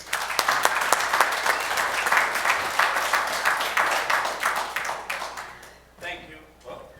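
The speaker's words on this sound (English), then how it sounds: "you guys give Sony a warm round of applause" Warm round of applause from a seated audience greeting a speaker at a presentation, dense steady clapping that tapers off near the end, followed by brief faint sounds.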